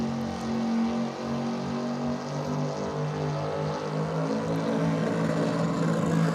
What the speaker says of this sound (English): All right, one last burnout for you guys. It's a little Mazda Ute.